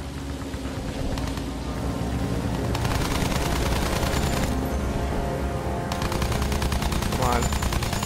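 Sustained rapid machine-gun fire rattles through a Battlefield 1 game, dense and continuous over a rumbling engine bed, with a player's voice talking over the top in places.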